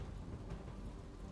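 Heavy downpour with thunder over Modasa, Gujarat, where the roads are flooded: a steady, dense roar of rain with a low rumble underneath, faint and continuous, and no voices.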